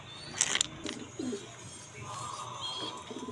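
Pigeons coo softly in a loft: a few low, rounded coos near the middle, with brief chirps and bird calls early on and light rustling throughout.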